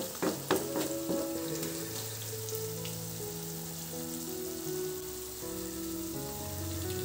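Garlic chicken fries in a pan as ground masala is stirred through, giving a steady broadband sizzle with scraping stir sounds, sharper clatters near the start, over faint background music.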